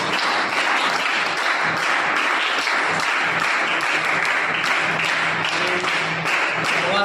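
Crowd applause at a birthday celebration in Maharashtra, steady and dense clapping from many people that holds at full level throughout without a break.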